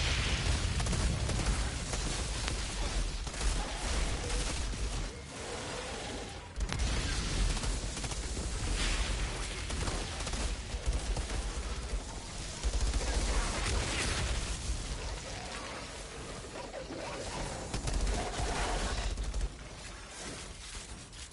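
Dense, continuous bursts of gunfire and explosions in the video game Outriders rattle on throughout, with heavy booms and rapid volleys layered in a loud, chaotic battle mix.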